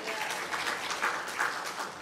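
A church congregation applauds together in a dense, steady burst of clapping that fills the room for a couple of seconds, fairly loud and sustained, with a faint murmur of voices underneath.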